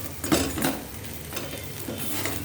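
Fried potatoes tumble into spiced masala in a pan for an aloo fish curry, giving a couple of close clinks and scrapes of utensil against the pan over a low background.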